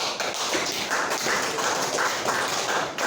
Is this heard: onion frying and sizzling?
no